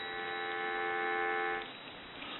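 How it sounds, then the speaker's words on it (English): A Western Electric 302 metal-body telephone gives a steady, unbroken dial tone for about a second and a half, then it cuts off sharply, leaving only faint background hiss. "And then we'll give you some dial tone."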